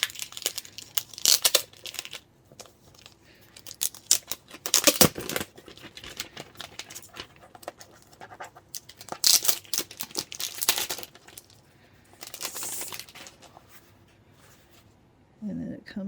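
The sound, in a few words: plastic sheath being removed from XP-PEN drawing tablet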